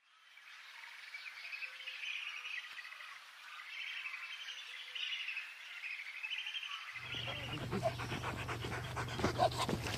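A tracking dog in Akagera, Rwanda, pants close by in quick rhythmic breaths, starting partway through after birds and insects chirp quietly in the background.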